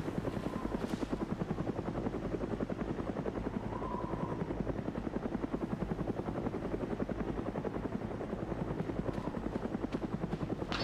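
A helicopter flies overhead in the military game Arma 3, its rotor chopping in a fast, even pulse under a loud turbine roar that holds steady throughout, with no voices.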